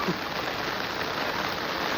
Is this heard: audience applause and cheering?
no